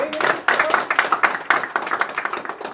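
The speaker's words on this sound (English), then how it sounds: "Give yourselves a round of applause" A group at a Friday night training session applauds, loud clustered clapping with sharp individual hand strikes standing out, and voices mixed in underneath.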